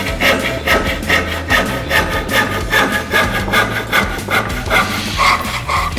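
A hand saw cuts through wood in quick, rhythmic back-and-forth strokes during a timed sawing race, loud and close, with a rasping grind on each pass.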